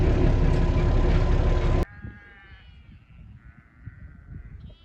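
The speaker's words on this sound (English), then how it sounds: "Sound of moms and babies bellowing, trying to find each other" Sheep ewes and lambs bleating at lambing time on a farm, a loud close bleat that cuts off sharply, then fainter calls and low background noise.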